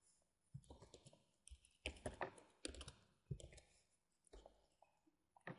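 HTML code being typed on a computer keyboard: close, irregular clusters of key clicks with short pauses between bursts.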